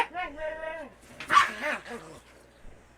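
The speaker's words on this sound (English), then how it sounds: "I'm going to go before I have to break up another dog fight." Two dogs barking and yipping in a scuffle, sharp yelps and growly barks in bursts over about three seconds, close and fairly loud, with a person's voice talking between and under the noise.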